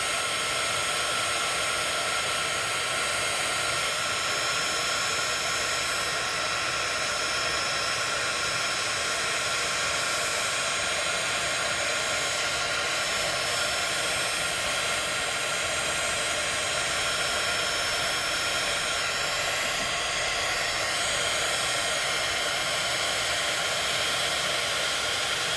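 A heat tool blows steadily and loudly without pause, a constant airy roar melting embossing crystals for card making, with no voices.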